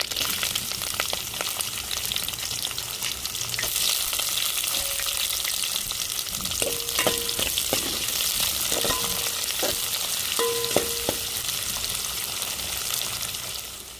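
Curry leaves and chopped onion fry in hot oil for a fish dish. A loud, continuous sizzle runs throughout, with scattered light clinks of a spoon against the pan.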